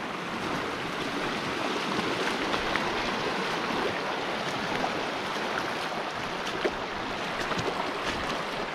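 Stream water rushing steadily at a river crossing on the west branch of the Encampment in the Mount Zirkel Wilderness, a constant broadband flow that is close and continuous, with no voices.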